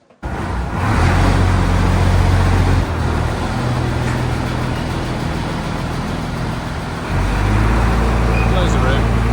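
An M5 gun tractor, just repaired enough to test its gearbox, is driven out with a loud, close, rumbling engine drone that shifts in pitch as it moves, and a voice is briefly heard.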